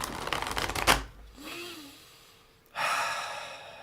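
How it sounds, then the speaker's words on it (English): A tarot deck shuffled up close, a fast rattling riffle of cards that stops sharply, then a quiet pause with a breath, followed by another burst of card noise. "When I shuffle my deck,"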